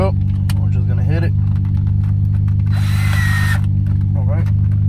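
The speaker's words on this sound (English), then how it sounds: "We'll get our little drill. We're just gonna hit it." A short burst of a power drill whirring for about a second, with people talking before and after over a constant low background hum.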